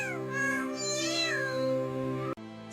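Cat meowing close and clear in one long, wavering, drawn-out call with rising and falling pitch, alone with no talking, cut off abruptly near the end.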